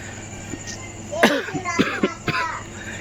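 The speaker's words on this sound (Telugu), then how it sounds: "కేక్ తినేసరికి దగ్గు వచ్చింది" A person coughs after eating cake: a quick run of three or four harsh, close coughs in succession, loud and clear with no talk over them.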